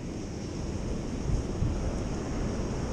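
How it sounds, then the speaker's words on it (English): Ocean surf rolls steadily onto the shore during a surf session, a constant broad wash with a slightly stronger surge midway, mixed with wind buffeting the microphone. "Keep an eye out for the rogue waves that are trying to get us."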